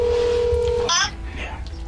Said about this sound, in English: I'm gonna make a phone call.